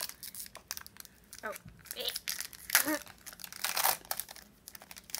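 Crinkling and tearing of a Pokémon Sun and Moon card tin wrapper with some rustling handling noise, close up, while a person talks briefly.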